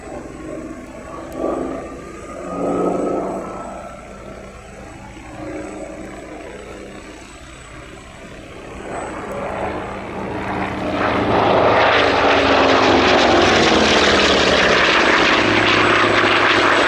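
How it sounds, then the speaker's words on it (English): A Hawker Sea Fury propeller aircraft with a Bristol Centaurus piston engine flies at an airshow. Its deep droning roar fades and swells, then grows loud and steady as it passes close, with no talk. "Bristol Centaurus engine here in evidence."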